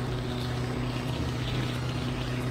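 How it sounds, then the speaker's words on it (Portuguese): A Scania truck engine in a truck-driving video game drones steadily with a low, constant rumble and tonal hum, unbroken throughout and fairly close. "Esse ronco da Scania é muito delícia, pelo menos no jogo."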